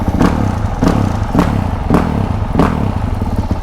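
A new dirt bike engine runs at idle up close, a loud throbbing rattle with a steady pulsing rhythm and regular thumping beats roughly every half second.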